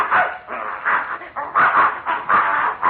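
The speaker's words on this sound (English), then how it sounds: "There's that mad dog, Adolf." Barking dog sound effect from a 1941 NBC radio comedy broadcast, a run of repeated yapping and whimpering barks in uneven bursts, fairly loud and close with no talk over it.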